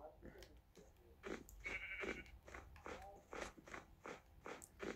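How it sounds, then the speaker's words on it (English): Video game sheep bleat a few times amid chewing and biting noises, with a person talking over them. "I found another sheep."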